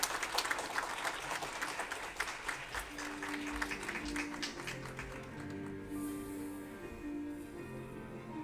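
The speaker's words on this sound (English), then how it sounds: "Please give him a warm round of applause" Applause from a dental conference audience at the Osstem Meeting in Seoul swells at the start, then thins and fades as steady music takes over.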